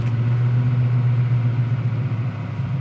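A 1971 Camaro engine idles steadily with a low, even rumble, close up and continuous without revving.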